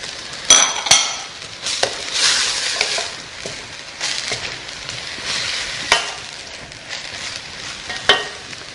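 Vegetables with grated carrot and chopped parsley stirred in a hot pan, a spoon scraping and tapping against the metal in irregular strokes over a steady soft sizzle, close up with no voices.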